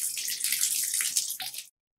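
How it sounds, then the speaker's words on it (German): Running tap water rinses a shower head after descaling in citric acid, a steady splashing hiss close by that stops abruptly as the tap is shut off. "jetzt nehme ich mir meinen Duschkopf aus dem Zitronensäurewasser hinaus"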